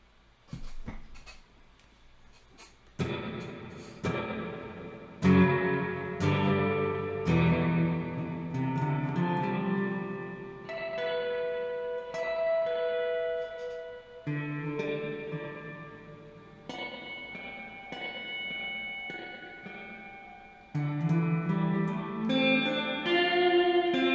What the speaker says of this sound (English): get a bit of a ghostly kind of echo. It's a bit of a weird sound.